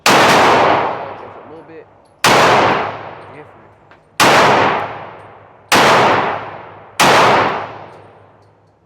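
Glock 31 Gen4 pistol fired at an outdoor shooting range: five loud, sharp shots spaced about two seconds apart, each with a long ringing decay, and someone speaks briefly between them.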